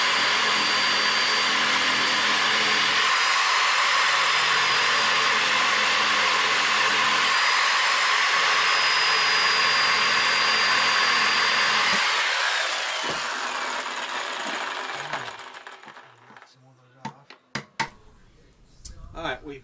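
Power tool cutting out a toilet flange from plywood flooring, a loud continuous whining roar for about twelve seconds that winds down, followed by a few knocks and clatters as it stops.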